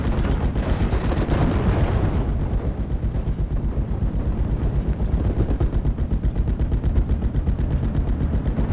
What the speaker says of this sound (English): We want to get this machine gun up.